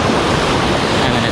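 Surf waves breaking over shallow water at a beach, a loud continuous rushing wash with wind noise on the microphone, no voices.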